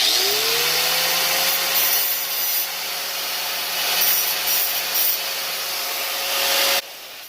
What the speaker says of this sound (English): Just take my dremel and basically just go along the teeth.